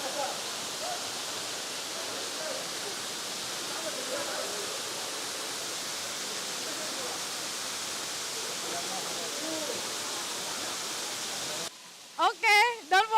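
A waterfall near Ubud, Bali, gives off a steady, broad roar of rushing water that holds at an even level for a long stretch before it cuts out abruptly. A voice follows briefly at the end.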